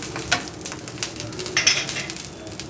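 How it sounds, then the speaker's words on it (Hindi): A mooli palak paratha fries in a pan with a soft, steady sizzle, broken by a few light metallic clinks close by. "परांठे को पहले सेक लेंगे, फिर फ्राई कर लेंगे।"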